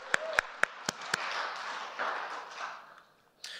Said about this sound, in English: Round of applause to all of our volunteers.